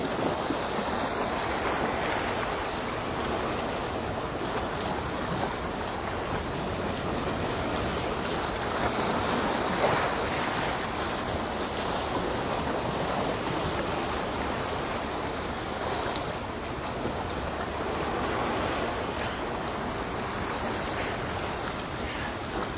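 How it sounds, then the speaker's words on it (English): Pacific surf at Waikiki Beach, Oahu, rolls and crashes steadily against rocks, a continuous broad wash of water with wind rumbling across the microphone, no voices. "Can you guys hear the waves up against the rocks when I'm not speaking?"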